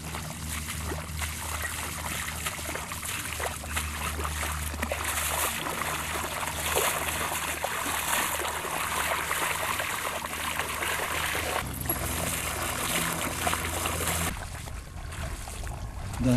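Salty sea water lapping and trickling along a muddy shore, a continuous close wash of gentle splashing with a slight change in texture near the end.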